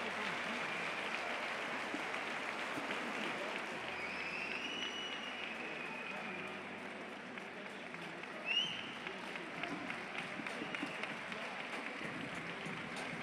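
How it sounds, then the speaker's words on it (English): Crowd applause at a kickboxing event, a faint, steady spread of distant clapping with a brief louder burst partway through, continuing throughout. "Big round of applause here for Victor Azatyan of Armenia."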